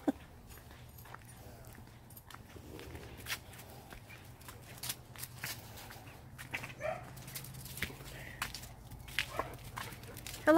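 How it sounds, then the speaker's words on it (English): A foster dog barks and whimpers in short, scattered bursts over a steady low hum, with soft footsteps and shuffling nearby. "That's Blake's foster dog."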